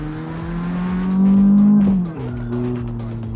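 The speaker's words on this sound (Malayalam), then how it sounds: "വണ്ടിയുടെ അകത്ത് ഭയങ്കര ശബ്ദമാണ്." A car engine in a racing video game revs loudly, its pitch climbing steadily then dropping sharply at a gear shift before building again, with a brief tire squeal close up.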